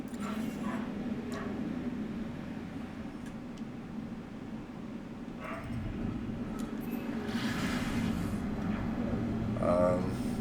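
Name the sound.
dog barking and whimpering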